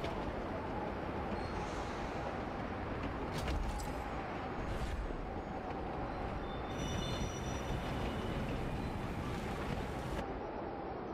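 A water train in the game Railgrade rolls along with a continuous rumbling rail clatter, steady and fairly loud, with faint squeal-like tones above it.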